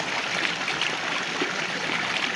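Dirty water from a hydraulic ram pump system flushes out in a steady, close rushing and splashing flow, continuous for the whole stretch with no talking.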